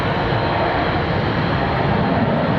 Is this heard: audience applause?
no